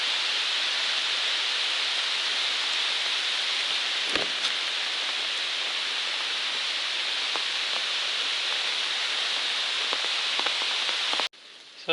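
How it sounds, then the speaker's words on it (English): Steady rain pours on the Appalachian Trail during a 2020 thru-hike, a dense even hiss with a few louder drops, continuing without pause for several seconds before cutting off abruptly near the end. "And here comes the rain."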